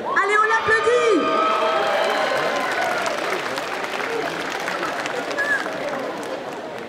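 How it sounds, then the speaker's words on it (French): Sustained audience applause with scattered cheers and whoops at a cosplay parade on stage at a gaming festival, loud at first and slowly easing, with some voices mixed in. "Allez, on l'applaudit!"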